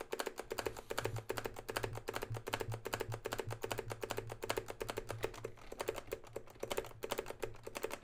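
Steady, rapid computer keyboard typing, close and continuous, with crisp clicks repeating evenly throughout and no talking.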